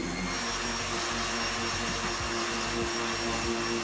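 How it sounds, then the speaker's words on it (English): Orbital sander fitted with 80 grit sandpaper grinding old paint off a flat surface of a guitar body, a steady close buzzing whir with a dense gritty scrubbing layer, continuous and unbroken. "I'm using my orbital sander with 80 grit sandpaper on flat surfaces."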